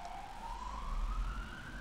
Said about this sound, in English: Oh god, an ambulance. Or a fire car, I'm not sure. Firefighters, perhaps,